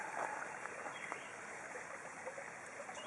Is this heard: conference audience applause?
no